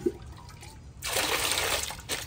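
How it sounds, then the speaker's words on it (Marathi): Water poured into a bowl for rinsing poha, kanda batata poha preparation: after a brief quiet start, a steady broadband pouring rush runs about a second, close and moderately loud, ending with a short splash. "पोहे धुण्यासाठी आपण आता पाटीमध्ये पाणी ओतून घेणार आहे।"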